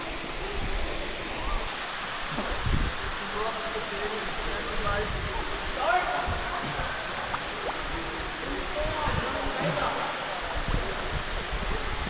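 Constant rushing hiss of the waterfall at Emma Gorge, a dense steady wash of falling water heard up close, with scattered splashes and faint voices mixed in underneath.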